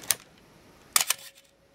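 A Canon FTb film camera shutter at 1/8 second, a crisp opening click followed almost a second later by a louder double clack with a brief mechanical rattle, close-up and alone in quiet surroundings.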